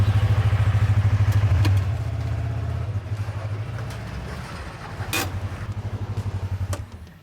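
A Kawasaki Teryx KRX 1000 side-by-side is driven off a trailer. Its engine chugs in a close, loud, steady pulsing rumble with occasional clatter, easing slightly midway before strengthening again.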